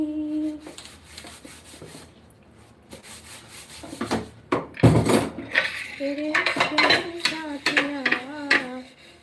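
Metal dishes and utensils are scrubbed by hand, with rubbing scrapes and clattering knocks of steel pieces against each other, growing busier toward the end, while a voice speaks over the later part.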